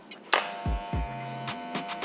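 An electric hair clipper fitted with a ceramic blade switched on with a click, a couple of low thumps, then a smooth steady motor hum running close by.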